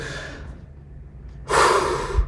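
During a breathing exercise, a person takes a deep, loud, close inhale through the mouth that lasts under a second, after a fainter earlier breath.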